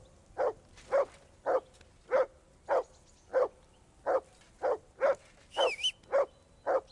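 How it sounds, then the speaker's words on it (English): A dog in Kingdom Come: Deliverance II barks in a steady, evenly spaced run of about a dozen sharp barks, close and loud, with a brief whistle-like tone near the end. "I assume you can hear that damn dog of yours barking."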